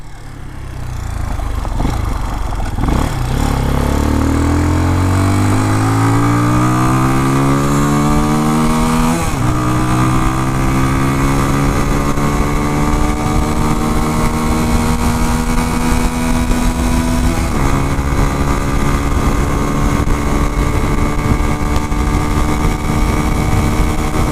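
A Mondial X-treme Maxx 200 motorcycle engine under way, loud and close, climbing through the revs with rising whine and dropping briefly at each gear change before pulling steadily again, with wind rush throughout.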